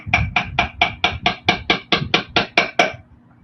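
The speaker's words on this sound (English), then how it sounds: "I've got my little hammer here, and I'm just going to ever so slightly" A small hammer taps metal wire in a steady run of about thirteen quick, ringing strikes, close and fairly loud, then stops.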